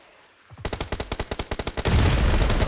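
Video game gunfire: a rapid automatic burst of about a dozen loud, evenly spaced shots, followed by a dense, continuous roar of fire at close range.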